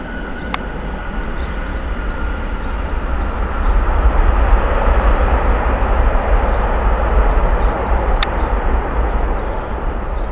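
An Aer Lingus Airbus A320 on approach and touchdown gives a loud, steady jet roar that swells midway and holds, with a brief high electronic beep twice.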